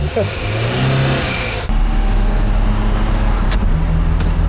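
Moskvich car engine revs loudly, then settles into a steady drone as the car pulls away, with people talking over it.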